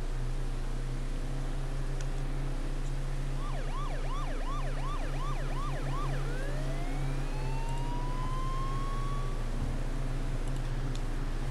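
Wailing police car siren in the online battle royale game H1Z1, a repeated rising-falling whoop followed by longer sweeping tones, mid-distance over a steady low engine drone.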